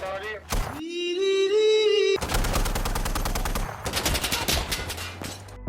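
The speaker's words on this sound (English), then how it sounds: "Pickups with machine guns that are guaranteed death sentence because every single insurgent or security player will immediately hear the noise and shoot you" A pickup-mounted machine gun firing in the video game Insurgency Sandstorm, loud rapid automatic bursts close by, preceded by a rising engine-like whine, with short breaks between volleys.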